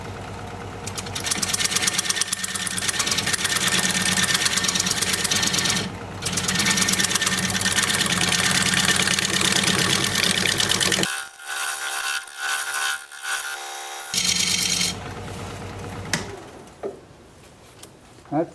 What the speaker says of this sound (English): A little shear scraping on the outside here.